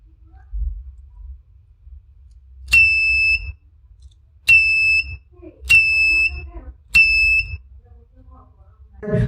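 A transistor-driven IR sensor circuit sets off its alarm buzzer in four loud, shrill electronic beeps, each lasting about half a second to a second, spaced a little over a second apart, with faint handling noise between them.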